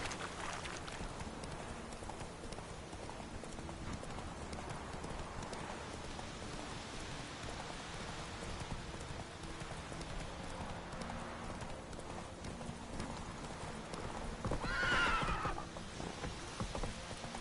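A horse gallops in a race in The Witcher 3: Wild Hunt, steady rhythmic hoofbeats over a rain-like hiss, with a brief neigh near the end and no talking.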